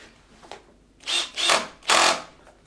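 A power driver set to torque setting 14 drives a screw into a slider door, giving three rising whirring bursts in close succession after a faint click, with no talking.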